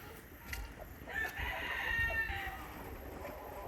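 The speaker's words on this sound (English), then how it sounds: "My poor chickens." A rooster crows once in the middle, a harmonic call rising over a rustling, rain-soaked outdoor background, with faint clucking around it.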